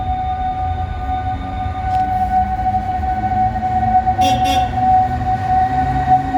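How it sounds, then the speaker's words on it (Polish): TLK passenger train departing a station in Poland, heard as a loud, close, steady rumble of rolling stock with a sustained tonal whine and brief high squeals partway through, with no talking. "Tu odjeżdża TLK Łęcka już z tym Gryfinem."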